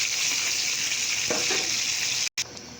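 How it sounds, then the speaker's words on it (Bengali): Fish fries in hot oil in a home kitchen, giving a steady close sizzling hiss with faint spatters, briefly cut off near the end. "মাছটা ভাজা প্রায় হয়ে গেছে, আর একটু ভাজা হলেই ঝোলে দিয়ে দেবো।"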